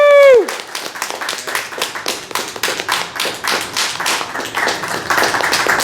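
Lively audience applause and cheering erupt after a two-sword swallowing finale at a museum of oddities show, dense clapping building steadily right after a loud shout, close and full.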